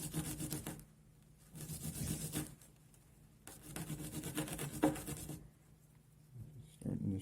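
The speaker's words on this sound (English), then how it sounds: "I'm just going to clean this up right here. Scotch pad. Get that brass to shine." A Scotch pad scrubs a brass heating water valve in repeated rough rubbing strokes, several sustained passes separated by short pauses, close and moderately loud, with someone talking over it.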